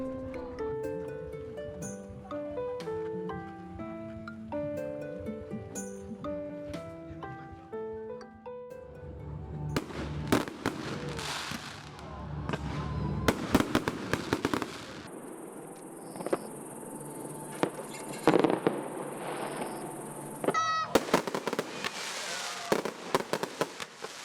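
Music plays at first, then fireworks burst and crackle in rapid clusters over Gungnamji pond in Buyeo, South Korea, on a summer night, with sharp pops and fizzing sparkles continuing to the end.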